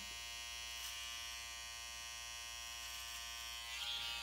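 Electric hair clipper buzzing steadily while trimming a tapered neck outline along the natural hairline, a close, continuous motor hum that brightens slightly as the blade touches the skin near the end.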